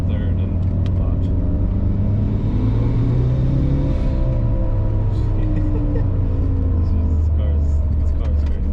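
A Mitsubishi Evo IV in third gear pulls hard on a wet road, its engine note a loud, steady rumbling drone rising gradually in pitch, heard from inside the car with continuous road and cabin noise.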